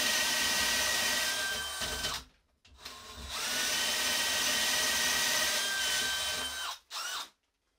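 A DeWalt DCD999 cordless hammer drill bores with a 35 mm bit, a loud, close, whining motor that runs in long bursts with brief stops and restarts, no voices.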